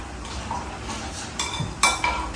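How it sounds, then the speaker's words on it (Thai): A ladle clinks against a metal pot and bowl while tom yum broth is scooped for noodles, a few light scraping taps and clanks followed by two sharper metallic knocks near the end, close and alone. "แล้วเราก็ไปตักน้ำซุปค่ะ"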